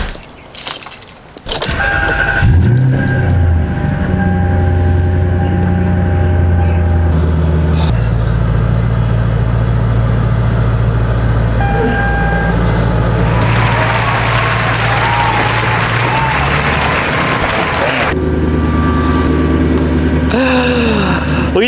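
A Lexus LS430 on new wheels starts and idles, its engine holding a steady low hum that rises into a brief rev and then settles, with keys and handling clatter at the start and a loud, continuous presence throughout.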